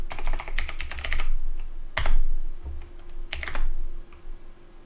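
Close, loud clatter of typing on a computer keyboard comes in quick bursts of keystrokes, separated by brief pauses and a couple of sharper single key strikes.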